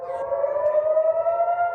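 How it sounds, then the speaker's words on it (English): A civil defense air raid siren sounds in Israel, a single sustained wailing tone holding steady for a couple of seconds, clear and prominent with nothing else over it. "Sirens sounded immediately in Israel."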